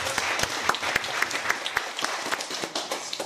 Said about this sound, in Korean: 영광의 박수 올립니다